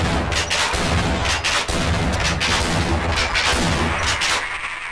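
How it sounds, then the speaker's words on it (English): An assault shotgun fires in Half-Life, sending out a rapid series of loud, heavy blasts one after another with dense, booming impacts that run through the whole burst, close and harsh, with no talking over them. "Gotta love the assault shotgun."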